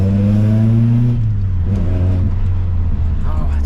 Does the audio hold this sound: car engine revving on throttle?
yes